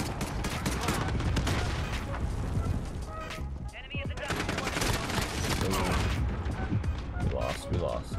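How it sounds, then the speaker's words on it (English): Cluster strike killstreak explosions in a multiplayer shooter: dense, continuous barrages of blasts and gunfire crackle throughout, loud and chaotic, with people talking over the noise. "cluster strike."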